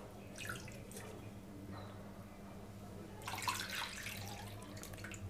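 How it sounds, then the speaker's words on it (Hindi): Milk pours from a bowl into a pot for a semolina milk cake, a faint liquid trickle that comes in short bursts and then a louder, fuller pour near the end. "यहाँ पे मैंने इस कटोरी से तीन कटोरी दूध डाल दिया इसके अंदर।"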